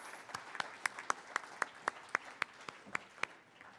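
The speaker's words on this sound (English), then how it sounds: "Ladies and gentlemen, a round of applause for our panelists." Scattered audience clapping for the panelists at a development industry dialogue event in Surrey, with about a dozen distinct claps in a slow, steady rhythm over a low room murmur.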